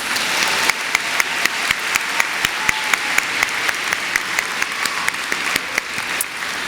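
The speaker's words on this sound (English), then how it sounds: "Let's give all of our honorees a round of applause" Audience applause for honorees at a Harris-Stowe State University commencement convocation, a steady, dense wash of many hands clapping throughout, with sharper individual claps standing out in a regular rhythm.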